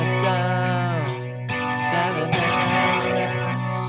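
An electric guitar run through effects plays the chord progression from a song, with sustained, chorus-like, shimmering chords shifting every second or so, rich and upfront with lingering echo.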